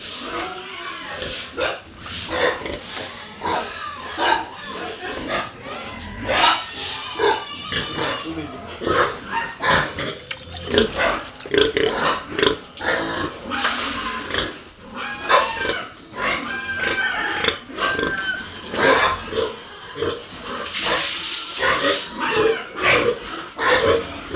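Several pigs grunt and squeal continuously in a noisy pen, the sounds overlapping close by with no pauses.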